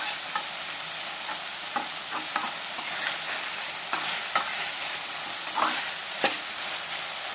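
Large potato pieces fry in hot oil with a steady, loud sizzle, while a spoon scrapes and stirs them in the pan at intervals throughout.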